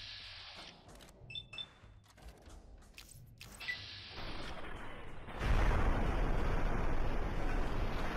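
Explosions in the video game Fallout New Vegas, with scattered sharp bursts and clanking at first, then a sustained loud roaring blast of debris and rumble toward the end.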